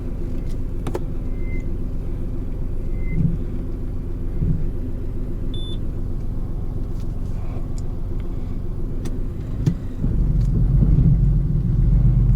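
A Peugeot 607 V6 automatic idles in drive with a low, steady engine and gearbox rumble, fairly quiet, with faint clicks and knocks on top and a brief swell of louder rumble near the end.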